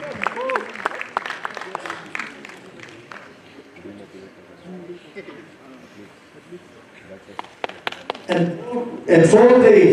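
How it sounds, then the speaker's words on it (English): Audience clapping at a women's physique competition during the Hornbill Festival in Nagaland, with patchy, uneven claps over crowd murmur and a louder burst of noise and voices at the end. "Please give a round of applause."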